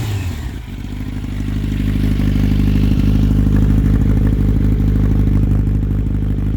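A 2014 Yamaha FZ1 Fazer, running with no baffle in its exhaust, revs loudly up close, then sits in a deep throbbing rumble with rough clattering crackle as the engine comes off the throttle.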